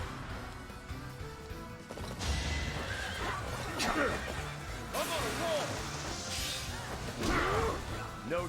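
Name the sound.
horse neighing in a video game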